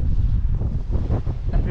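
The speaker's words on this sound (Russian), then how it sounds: "Ветер очень сильный, холодный." Strong, cold north-easterly wind gusting up to 20 metres per second buffets the microphone on an empty October beach at Gelendzhik, a loud continuous roar with surf rumbling beneath it.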